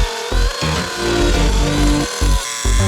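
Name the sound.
router cutting into oak table wood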